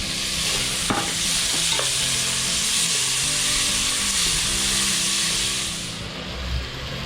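Tomatoes sizzle steadily in hot oil as they are stirred into a pan for native chicken sinampalukan, with a broad frying hiss, a couple of utensil scrapes early on and the sizzle easing near the end.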